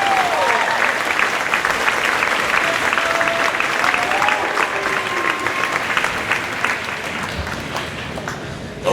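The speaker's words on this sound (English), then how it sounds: "Let's have a round of applause for our superhero troubleshooting technicians" A crowd applauds troubleshooting technicians at a high school marching band indoor show, steady clapping throughout with a few faint voices and whistles mixed in, easing slightly toward the end.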